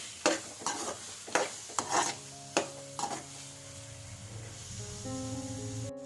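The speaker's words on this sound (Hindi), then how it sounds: "मावा को भी हम अच्छी तरह से इस तरह से चलाते हुए हलवे में मिला लेंगे" Mawa is stirred into carrot halwa in a pan, a spoon scraping and slapping the thick mixture in about eight distinct strokes, then a quieter, steadier stir near the end.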